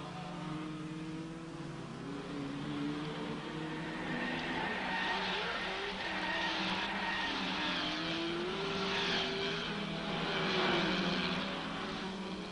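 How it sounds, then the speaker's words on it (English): Big GT race cars, Shelby Cobras, Ferraris and Porsches, racing at Rouen in the 1964 Tour de France auto, engines roaring and revving steadily as several cars pass continuously at moderate distance, with no talk. "The big GTs make a splendid spectacle at Rouen."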